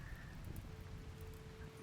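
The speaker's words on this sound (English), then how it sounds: "It's cool that it's, you know, in the rain." Steady rain falling in the colony-building game RimWorld, a soft, continuous hiss of drops that stays even and low throughout.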